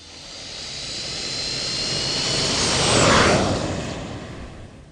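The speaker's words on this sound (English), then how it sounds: "Maybe take a private jet." Aircraft engine passing overhead, likely a private jet, with a steady broadband roar that swells to a peak around the middle and then fades away, heard alone with no talking.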